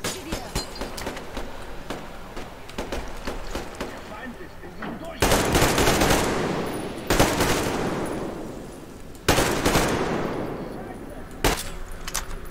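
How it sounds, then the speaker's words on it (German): Bursts of automatic gunfire and single shots in the post-apocalyptic shooter Metro Exodus, loud close volleys separated by quieter stretches of scattered fire. "Kopfschuss."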